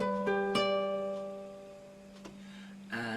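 Ninth chord from a beginner lesson on a simple melody with chords, played on a plucked string instrument with strings sounded in sequence, then left ringing as it slowly fades before a new strum near the end.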